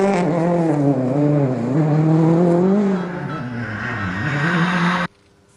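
Volkswagen Polo rally car engine roaring loud and close, pitch rising and falling through gear changes for about five seconds before cutting off abruptly.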